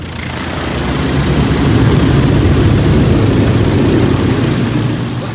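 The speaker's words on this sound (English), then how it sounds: "Looks like we're starting with some sort of a high pressure rinse" High-pressure rinse spraying in an Oasis BayWash i5 automatic car wash in Howell, Michigan: a loud, dense, steady roar of water jets that swells in and holds throughout, with no voices.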